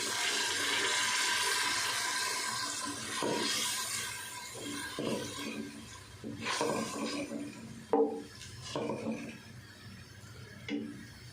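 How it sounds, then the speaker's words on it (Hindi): A glass of water is poured into a pot of khara masala keema, a steady splashing pour that fades into softer trickles and a few clinks of the vessel. "अब हम इसमें 1 गिलास पानी ऐड कर देते हैं।"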